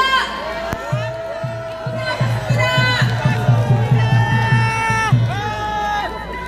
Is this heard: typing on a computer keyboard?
no